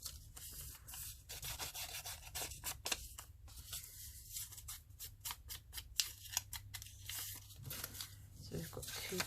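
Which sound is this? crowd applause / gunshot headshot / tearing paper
tearing paper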